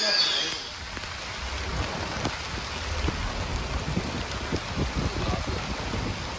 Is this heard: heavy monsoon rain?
yes